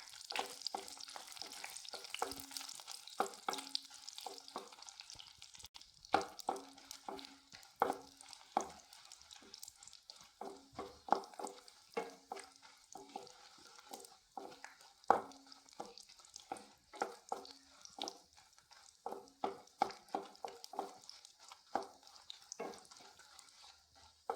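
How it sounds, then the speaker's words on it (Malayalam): Ten dried red chillies fry in hot coconut oil, giving a steady low sizzle broken by frequent sharp clicks and scrapes of stirring for about twenty seconds, with no talking. "വെളിച്ചെണ്ണ ചൂടായി വരുമ്പോൾ നമുക്ക് മുളകൊന്ന് വറുത്തെടുക്കാം."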